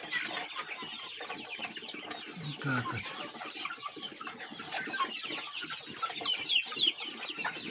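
Young hens of mixed breeds, some Pushkin, cluck and chatter steadily and close by in a coop kept apart from the roosters, with someone briefly speaking over the flock.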